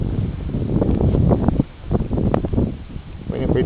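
Strong wind blows outdoors, buffeting the microphone in heavy, uneven gusts that rumble and rustle, with someone talking over it.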